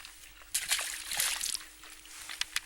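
A freshly caught fish slips back into the water with a close slosh and splashing burst, then a few small drips and trickles.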